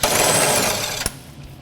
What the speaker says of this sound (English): Remove the sway bar end link with an 18mm socket.